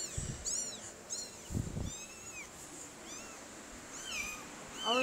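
A white and orange cat gives a string of short, high, chirpy meows spread evenly over several seconds, fairly close by. A few soft low thumps and faint room noise are also heard.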